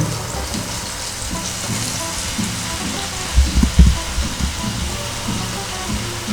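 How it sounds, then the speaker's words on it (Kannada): Green chillies frying in oil, with fresh fenugreek leaves tossed in for an Andhra-style methi pappu, give a steady close sizzle that swells into louder crackling bursts for a moment midway, then settles back. "ಮೆಣಸಿನಕಾಯಿ ಲೈಟಾಗಿ ಫ್ರೈ ಆದ ನಂತರ ಇದಕ್ಕೆ ಮೆಂತ್ಯ ಸೊಪ್ಪನ್ನು ಹಾಕಬೇಕಾಗಿರುತ್ತೆ"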